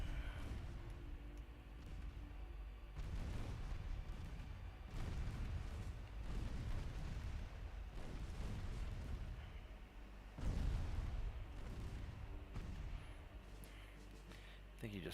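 Ship guns fire in a naval battle in Ultimate Admiral Dreadnoughts, deep booming salvos rolling at intervals, one heavier blast standing out, under steady background rumble with occasional talk.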